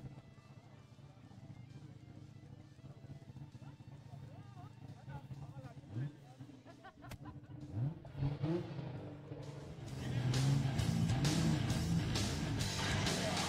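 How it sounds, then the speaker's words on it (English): At a no-prep drag race, the 2JZ Toyota Supra drag car's engine builds from a distant rumble to a loud, sustained roar in the final seconds, while an announcer talks over the PA. "especially of the 2JZ Supra Zank Racing coming down"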